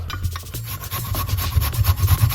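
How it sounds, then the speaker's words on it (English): A chunk of ginger is rubbed against a grater in steady, rapid scraping strokes, close and fairly loud, with no talking. "grate your ginger like this"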